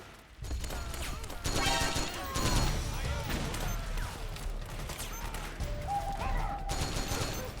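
Bursts of gunfire from the Metal Gear Solid 4 video game, a steady close volley of shots and crashes with radio-style voices talking over the fighting.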